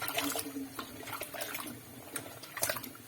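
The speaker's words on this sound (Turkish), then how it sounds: "Suyumuzu atalım." Water is poured into a dish while a Jerusalem artichoke dish with olive oil is being prepared, a quiet splashing and trickling with uneven bursts over about three seconds, with no voices.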